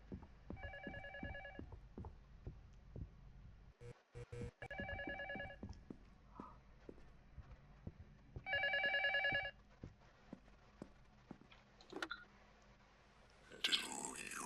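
Phone ringing in the horror video game Luto, a few separate electronic ring bursts spaced apart amid quiet clicks and faint ambient noises.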